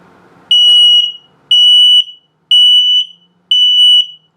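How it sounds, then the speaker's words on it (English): RV safety detector sounding its low battery alert: four identical loud, high-pitched electronic beeps at a steady one-per-second rhythm, each about half a second long, close and alone. "And then low battery alert."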